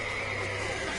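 A horse in The Witcher 3: Wild Hunt neighs loudly and close, a brief whinny over a dense rumbling background.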